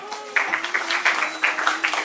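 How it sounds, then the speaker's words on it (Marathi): Applause during an honouring ceremony at a kirtan festival, brief rhythmic clapping from a gathered audience over a steady background drone, moderately loud. "जोरदार टाळ्या झाल्या पाहिजे"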